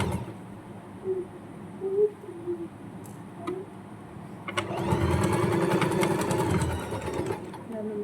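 A sewing machine stitches a fabric pencil pouch in a quick steady whir that runs for about three seconds after a stretch of quieter talk and small handling noises.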